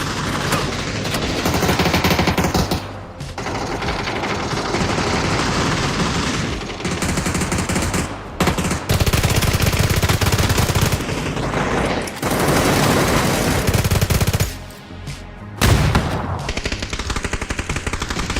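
Rapid bursts of automatic gunfire in a shooting game, loud and dense, rattling in long volleys with a few brief pauses between them, no talking.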